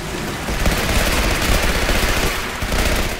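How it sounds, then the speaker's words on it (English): A flamethrower fires in the video game Legendary, a loud continuous roaring whoosh of flame with slight crackle, steady throughout with no pauses. "The flamethrower actually works decent against these douchebags."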